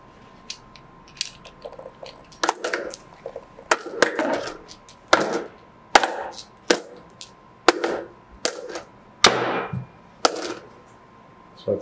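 Small pieces drop one by one into a box on an SL-7510 series counting scale, about a dozen sharp clattering clicks at irregular intervals, fairly close and heard alone.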